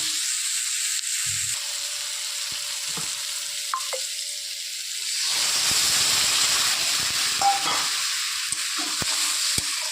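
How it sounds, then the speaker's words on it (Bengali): Water hits a hot pan with a loud, broad hiss that swells and steams from about the middle onward, over the steady sizzle of cooking. Occasional clinks sound, and no one speaks. "এবার দিয়ে দেবো আমি জল"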